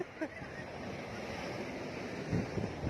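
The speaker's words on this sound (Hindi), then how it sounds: "लहरें देखो, लहरें" Steady washing of sea waves on the Goa coast with a low rumble of wind, fairly soft and continuous, with a few faint voices in the background.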